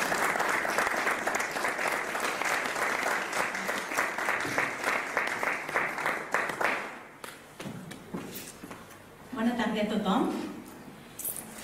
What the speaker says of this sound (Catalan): Un aplaudiment per la Montse